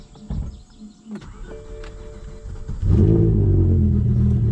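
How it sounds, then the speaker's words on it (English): BMW M5 with a V10 engine on a cold start: a few faint clicks and a whir from the starter, then the engine catches and settles into a loud, steady, deep rumble. "All right, do a little cold start."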